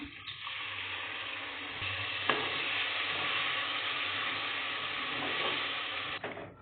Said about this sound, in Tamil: அரைச்சி வச்ச தக்காளி இந்த ஸ்டேஜில் சேர்த்துக்கிறோம்.